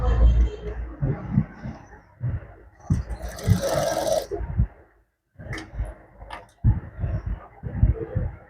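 A foot-pressure sewing machine stitches in short bursts, its close whirring starting and stopping with a brief pause midway, as a tailor talks between runs.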